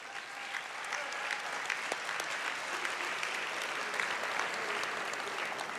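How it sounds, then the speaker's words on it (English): Steady audience applause fills a packed banquet room at a university academic and athletics award banquet, a dense, even patter of many hands clapping for the full length at moderate loudness with no talking over it. "Let's give a round of applause for Adam Burke."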